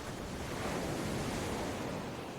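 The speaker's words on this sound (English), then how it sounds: "The steady pulse of waves, the hush of wind through leaves" Waves surge onto the sandy shore of a beach at El Nido in the Philippines, with wind rushing alongside, forming a steady, dense wash of surf noise that stays even and fairly soft throughout with no voices.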